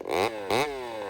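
A Husqvarna 572 XPG chainsaw fires up, giving two quick, loud revs with a sharp climbing whine, then settles into a high idle close by.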